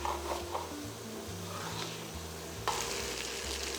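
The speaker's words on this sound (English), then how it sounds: "gently removing the fond from the bottom of the pan as the sauce boils" Sauce boiling in a pan for stir-fried lou shu fun noodles while a utensil scrapes fond off the bottom, giving a constant bubbling hiss with rough scraping strokes and a brief louder scrape near the end.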